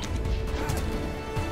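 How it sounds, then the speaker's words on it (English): A hammer slams into an enemy in a Smalland video game, heavy crashing thwacks landing in quick succession over a busy game soundtrack, loud and close. "Hit it with a hammer."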